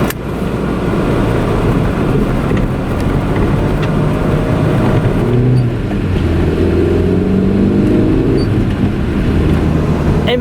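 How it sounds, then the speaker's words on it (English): A Toyota car drives along an empty island road on Siargao, its engine a steady, loud drone heard from inside with road rumble underneath, continuous with no talking. "I like driving this car, I quite like the way it sounds."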